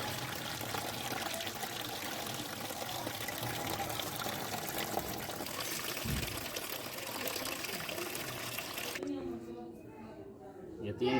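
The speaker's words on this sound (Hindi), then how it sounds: "ये इस तरह तीसरे पानी को भी उल्टाएंगे।" Rinse water from a third wash is poured off soaked rice for a black chickpea pulao, a steady close splashing and rushing that runs for several seconds before ending abruptly into quieter clatter.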